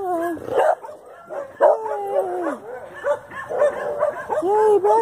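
Several large dogs bark, howl and whine nearby as another dog is walked past them, a loud, overlapping chorus of yowls and yips in bursts.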